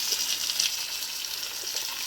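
Garlic tempering sizzles in hot oil over a heated ṭhikrī for a village-style wal aamti, giving a soft, even, continuous hiss at close range. No one talks.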